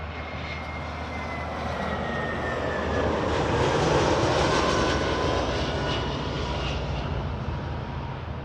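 An Avianca Airbus A320neo airliner arriving from San Salvador at Toronto Pearson Airport gives a loud, steady jet roar that swells slightly mid-way and holds without a break, with no talk.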